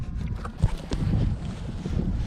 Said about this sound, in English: it's really windy and it's cold again